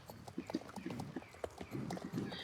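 Horse hooves clip-clop in a quick, steady rhythm in the riding game Star Stable, close and fairly loud over soft game ambience.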